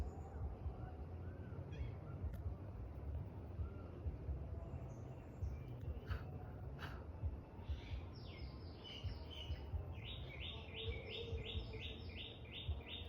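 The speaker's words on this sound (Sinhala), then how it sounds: "කුරුල්ලන්ගේ සද්දෙත් ඇහෙනව නේද?" Birds chirp faintly in the distance in a marigold garden, with a run of quick repeated notes near the end over a low outdoor rumble and no talking.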